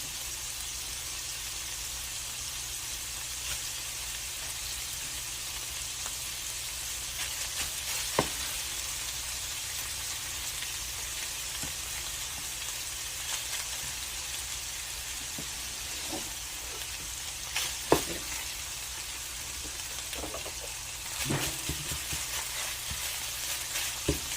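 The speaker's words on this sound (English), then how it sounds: "I'm mixing my rice in with the ground meat." Rice being mixed into ground meat in a hot pan for cabbage rolls, with a steady low frying sizzle throughout. Sparse, quiet utensil scrapes and taps sound close by.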